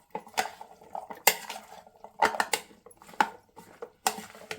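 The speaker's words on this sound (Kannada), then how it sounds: "ಇವಾಗ ಚೆನ್ನಾಗಿ ಮಿಕ್ಸ್ ಮಾಡ್ಕೊಳ್ಳೋಣ." A spoon clinks and scrapes irregularly against a bowl while a kabuli chickpea salad is tossed, giving close, light, uneven clatter.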